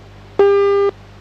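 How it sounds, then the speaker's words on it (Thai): A single steady electronic tone lasting about half a second, loud and clean with a sharp start and stop, like a phone signal heard over a radio, then quiet. "เสียงที่วิทยุโอ้โหมันน่าจะเป็นมือถือ"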